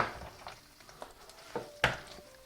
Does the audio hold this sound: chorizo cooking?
yes